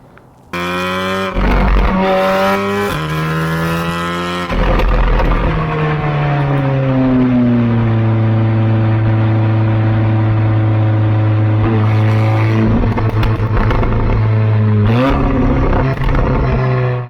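A stage 3 tuned Audi S3 rated at 512 bhp is revved hard several times. The engine and exhaust climb and fall in loud, close, sustained pulls, with no talking.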